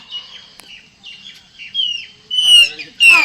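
Birds calling around a rooftop: sharp chirps and squawks come in bursts, sparse at first and then growing louder and more frequent, close by against an otherwise quiet background.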